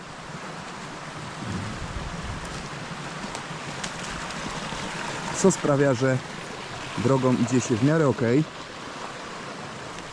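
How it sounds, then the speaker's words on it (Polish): A mountain stream runs down in small cascades, a steady broadband rush of water heard throughout while someone speaks over it in the middle of the stretch. "potok tam widać na dole"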